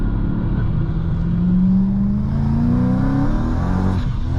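A supercharged 666-horsepower BMW M3 Touring engine revs hard as the car accelerates, a loud, sustained rising roar with supercharger whine climbing in pitch, heard from inside the cabin without talk.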